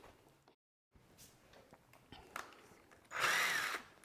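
Quiet handling clatter and small knocks while installing shutters, then a brief whirring burst from a power drill near the end, spinning for about half a second.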